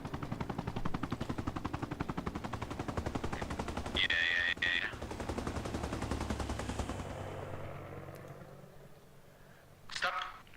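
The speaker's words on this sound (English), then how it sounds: "Roku is shooting back with heavy machine gun from Duras" Heavy machine gun fire in a multiplayer war video game, Americans against Soviets, sounds as a long sustained burst of rapid shots under continuous talk, with a short distant crack near the end.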